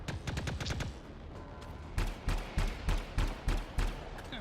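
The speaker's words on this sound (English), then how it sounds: "I missed all those shots." Rapid bursts of gunfire from the video game Anthem: a quick volley of shots, then a brief lull, then a steady run of evenly spaced single shots, fairly faint overall.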